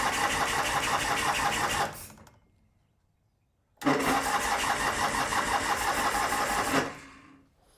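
A Norton motorcycle engine catches and runs at its first start, a steady loud chugging that cuts out abruptly, goes quiet for two seconds, then fires and runs again before dying away.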